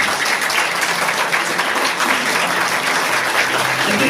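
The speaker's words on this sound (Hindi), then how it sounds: "यीशु के लिए जोर से ताली दो" A church congregation at a Hindi-language sermon claps loudly for Jesus, a dense, steady roar of many hands that holds throughout without pause or speech.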